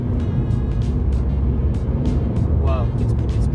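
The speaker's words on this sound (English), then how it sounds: "I'm just going to start putting my foot down now." A 2016 Ford Fiesta ST Line with a 1-litre turbo engine accelerating hard, its steady, loud engine and road roar heard from inside the cabin with a brief chirp near the end.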